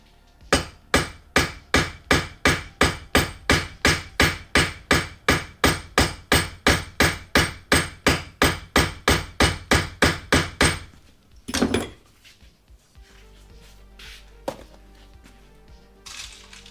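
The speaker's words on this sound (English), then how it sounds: "Not that anybody needs to see me rivet the 40th rivet" Steady, evenly spaced hammer blows set rivets into leather armor, about thirty loud, close strikes in a quick regular rhythm, followed by a brief shuffle and quiet handling.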